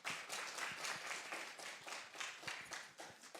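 Conference audience applause welcoming a KAIST professor to the stage for a presentation session, a steady patter of many hands clapping at moderate volume throughout, with no speech over it.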